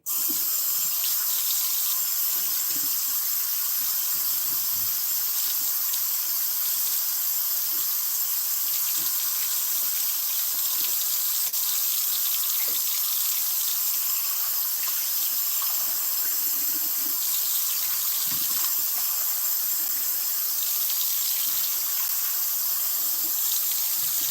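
Hot water runs steadily from an older, slightly rusty tap into a sink, a continuous hissing gush with small splashes and shifts as items are moved under the stream, close and constant throughout.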